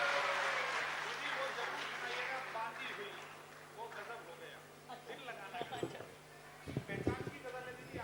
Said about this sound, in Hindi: जोरदार तालियां बजाइए आदरणीय नसीम निखत जी